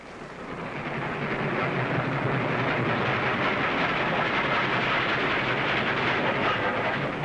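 A 1940s troop train rumbles along the rails, a loud continuous roar with a faint rhythmic clatter, building up at the start and then holding steady.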